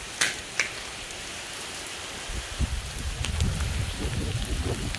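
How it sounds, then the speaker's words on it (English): Heavy rain with hail pounds a concrete driveway outdoors, starting with a few sharp isolated impacts and then building after about two seconds into a dense, steady, close downpour of pattering and clattering. "And you can see it's raining hard."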